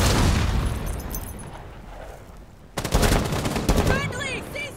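Gunfire in the tactical shooter Rainbow Six Siege, with a burst of shots at the start fading into lower rumble, then a second sharp volley of rapid shots near the end, fairly loud in the game mix.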